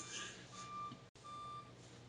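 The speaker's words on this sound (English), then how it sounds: "We're going to wait till that beeping stops." A truck's reversing alarm beeps steadily at a distance, two long repeating tones separated by a short gap over low engine rumble.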